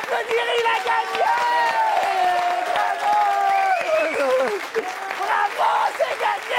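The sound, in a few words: audience applause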